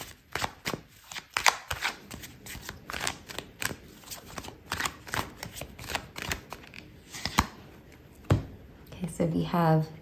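A deck of tarot cards is shuffled close up in quick, repeated riffling bursts of crisp slapping and flicking, a steady rhythmic series that ends with a brief voice.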